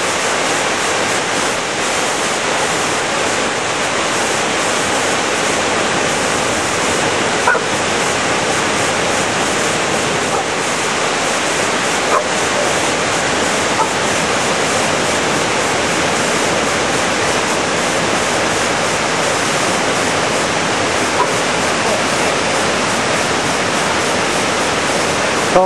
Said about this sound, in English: Coac Falls, near Granite Hill, New Brunswick.